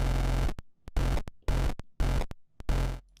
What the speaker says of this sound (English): I'm a big fan of the bit depth reduction, or the bit depth distortion,